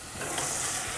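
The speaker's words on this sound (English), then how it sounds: "I'm going to put it in here, and you can hear that sizzle" Rice toasts in a frying pan with oil for a chicken thigh dish, producing a short, soft, even sizzle with light stirring rustle close by.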